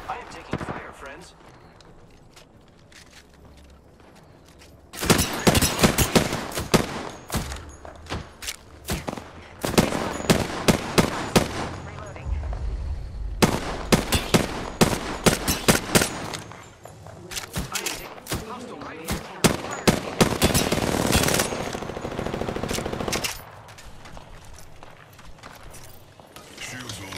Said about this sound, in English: Hostile right here. Contact. Are you sure someone's got a shot on me? I am taking fire, friends.